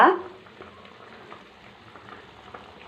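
Fish and eggplant stew simmering in a pot, a soft steady bubbling and faint sizzle close by, opening with a brief clatter, with no talking over it.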